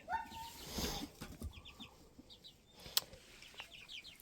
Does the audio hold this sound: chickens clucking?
yes